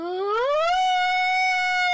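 A single human voice imitates an air raid siren, rising steadily in a smooth wail and then holding one high, loud tone.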